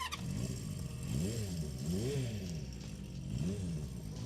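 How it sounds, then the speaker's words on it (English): A motorcycle engine with a racing exhaust idles with a deep, throaty exhaust rumble, rising in a few gentle revs, close and steady. "The engine's nice and smooth, as you can hear here."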